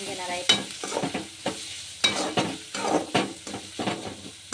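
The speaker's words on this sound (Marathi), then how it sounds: "कांदा छान असा फ्राय झालेला आहे" Onion frying in a pan for spicy village-style egg bhurji, stirred in repeated scraping strokes over a steady close sizzle, with no voices.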